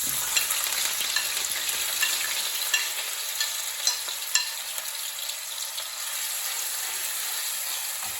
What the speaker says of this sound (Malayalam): ഇപ്പൊ നമ്മുടെ വെളിച്ചെണ്ണയൊക്കെ നന്നായി ചൂടായിട്ടുണ്ട്. ഇനി നമ്മൾ അതിലേക്ക് ചുവന്നുള്ളി ഇടുകയാണ്.